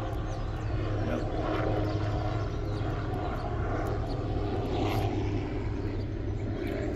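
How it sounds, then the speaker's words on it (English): A sightseeing helicopter's rotor thrums steadily overhead, a continuous low rumble with throbbing beats and faint wind, no one speaking. "Like a sightseeing helicopter."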